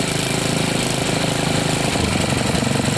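Briggs & Stratton 190cc OHV engine on a worn MasterCraft Lawn Chief rototiller idling, a loud, close, steady chugging putter throughout with no talk.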